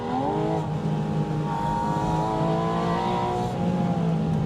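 A Porsche 718 Spyder RS mid-mounted engine revs steadily higher toward its 9,000 RPM redline, its harmonic whine climbing continuously and loud throughout, with no pause.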